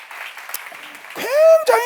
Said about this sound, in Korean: 박수 치시기 바랍니다